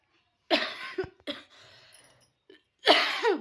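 A person coughs in several harsh bursts separated by quiet pauses: a strong fit at the start, two short follow-ups, then another loud double cough near the end.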